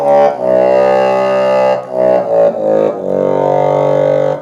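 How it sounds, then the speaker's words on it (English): Low, buzzing reeds of a Roland accordion on the bassoon register shifted down an octave play a short phrase of held notes with brief breaks between them, close and full, with no voices. "I can take that bassoon sound and I can drop it down another octave,"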